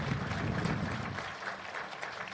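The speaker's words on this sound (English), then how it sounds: "A round of applause for Cherry." Crowd applause at a ship christening ceremony, a dense, continuous patter of clapping that stays steady and fairly loud, fading slightly toward the end.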